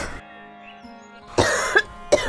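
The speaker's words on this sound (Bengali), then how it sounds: "মা আবারও কাশি হইতেছে" A woman coughs in a short burst of harsh, close coughs after a quiet moment, loud and clear with no talk over them.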